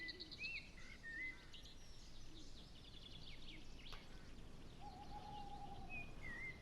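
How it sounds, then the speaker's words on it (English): An owl calls in the Train Sim World 2020 game along the West Somerset Railway, with faint scattered hoots and short chirping bird calls over quiet outdoor ambience, distant and soft. "I love it, owl chirping."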